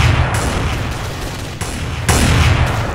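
Gunfire from Counter-Strike: Source rattles on without pause: dense, loud bursts of shots that ease slightly, cut out for a moment, then come back heavier near the end.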